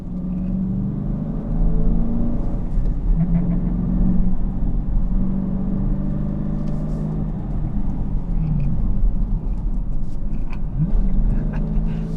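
A 2016 Dodge Challenger SRT on a test drive, its engine producing a steady, deep low rumble heard from inside the car, with slight swells as it pulls along, over about twelve seconds.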